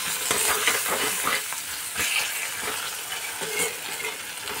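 Chopped tomatoes sizzle and fry in a pan over low-to-medium heat while being stirred, with steady close crackling and hiss broken by repeated scraping strokes; no voices.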